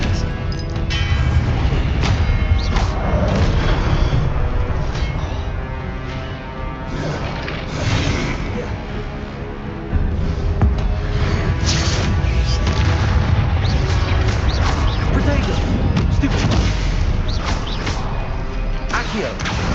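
Dense game combat in Hogwarts Legacy, with the Expelliarmus disarming spell and other spells cast amid repeated booming blasts, crashes and whooshes layered over a continuous loud mix, with a voice talking throughout.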